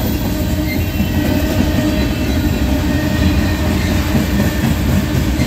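A large freight train led by NS locomotive 4212 passes close by, a loud, continuous rumble with rhythmic wheel clatter and occasional faint squeals, and no one speaks.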